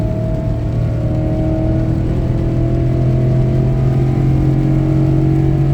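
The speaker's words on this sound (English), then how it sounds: "That's flat, wide open throttle." Ford F-150 pickup towing a load of scrap metal, pulling hard at wide open throttle: a loud, steady engine drone that climbs gradually in pitch as the truck gains speed, with no talk over it.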